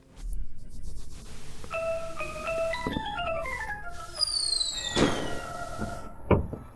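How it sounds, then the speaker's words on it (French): Fireworks going off at New Year, several sharp bangs and crackles with whistling, rising tones layered over a tinkling melodic jingle, moderately distant. "Des feux d'artifice."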